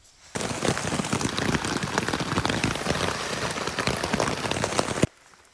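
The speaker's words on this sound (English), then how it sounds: "It's still raining." Heavy rain pattering hard and steady on a surface in the Point Reyes wilderness, dense and close, starting abruptly and cutting off after about five seconds.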